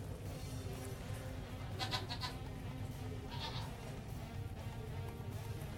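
Baby goats dressed in pajamas give a couple of faint, short bleats over a constant low background rumble of an indoor pen.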